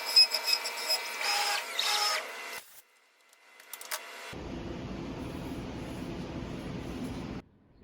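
A CNC machine engraves a clamped wooden cornhole board. A short burst of whirring is followed by a pause, then a steady mechanical hum and grind that runs for several seconds before stopping abruptly.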